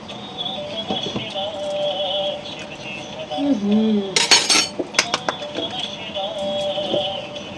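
Potatoes being cut in a home kitchen with a knife on a board, a run of sharp clicks and taps in the middle, with dish and utensil clinks and faint background noise around them.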